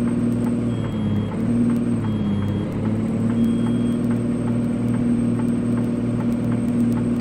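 In American Truck Simulator, a heavy truck hauling a HIMARS drones steadily with a hiss of air pressure building, while faint, evenly spaced low-pressure warning beeps repeat in the background.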